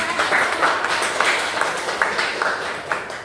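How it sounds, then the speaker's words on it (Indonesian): Applause from a classroom of students, a steady wash of many hands clapping at moderate volume that continues evenly for the whole stretch, with no voices breaking through. "Kita beri tepuk tangan dulu."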